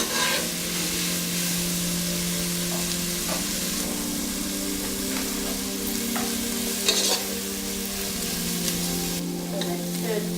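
Onions and curry leaves are fried for a prawn curry, with a continuous sizzle under occasional spoon stirs and scrapes against the pan, and a low steady hum beneath.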